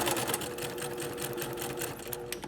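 A sewing machine runs steadily along a seam in fabric, its needle chattering in a fast, even rhythm at moderate volume with no talk over it.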